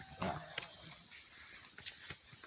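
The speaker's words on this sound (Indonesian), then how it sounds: "Kenapa kita menggunakan semprotan kecil kayak gini?" A small hand sprayer puffs a biological agent onto coconut plants at a farmers' group plot in Durensari: a few short, soft hissing bursts over steady outdoor background noise.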